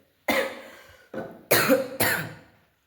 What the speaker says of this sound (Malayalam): ഇപ്പോൾ ചുമ പിന്നെയും തുടങ്ങി